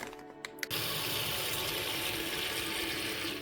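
Small plastic parts of a 1:72 scale Revell Tiger II tank model are rinsed in soapy water; a few clicks give way to a steady, close rush of running water.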